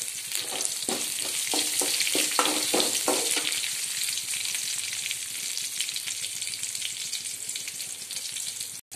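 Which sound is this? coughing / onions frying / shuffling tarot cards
onions frying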